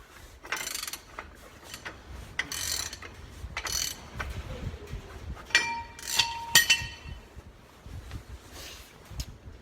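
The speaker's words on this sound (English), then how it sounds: "So the manual says to torque that nut to 50 pounds-feet" A ratchet works on the hub nut of a Foden Fleetmaster truck's rear hub during a seal replacement, giving bursts of close mechanical clicking and clanking with metallic clinks and pauses between strokes.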